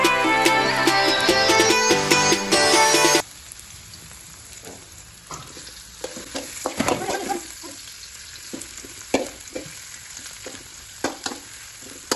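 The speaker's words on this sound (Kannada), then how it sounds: "ಬೊಕ್ಕೊಂಜಿ ಸೈಡ್ ಎಣ್ಣೆಗೆ ನೀರುಳ್ಳಿ" Onions hit hot oil in a pan while packet noodles are being made, giving a steady, close crackling sizzle with scattered pops after a few seconds of music at the start.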